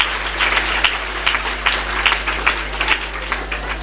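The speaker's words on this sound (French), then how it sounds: "Mention spéciale à l'équipe pédagogique que je veux que vous les applaudissez encore une fois." An audience at a private school prize-giving in the HLM3 district of Niague claps for the teaching staff, a moderately sized crowd producing uneven, rhythmic bursts of applause close by, rising and falling over a steady low hum.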